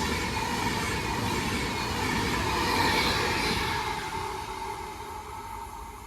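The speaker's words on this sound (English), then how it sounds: "Here's the passing Avanti West Coast service to Manchester Piccadilly from London Euston." An Avanti West Coast express passes on a diversion along the Walsall line, its continuous rumble and rail roar holding steady before slowly fading, with no voices present.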